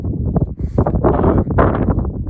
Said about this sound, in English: now it's just quite windy